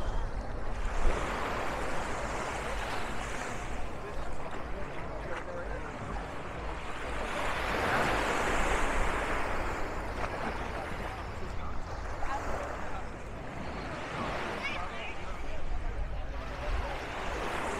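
Surf rolls steadily onto the beach at the Hilton hotel in Playa del Carmen, Mexico, a broad continuous wash with gentle swells and some wind, moderately loud and unbroken throughout.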